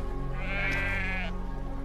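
A sheep in the video game I Am Jesus Christ, heard at a Nazareth market, lets out a single close, wavering bleat lasting about a second over a steady droning game background.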